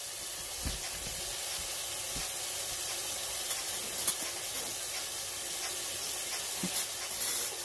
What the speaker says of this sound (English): This is rinsing off the Mean Green, okay?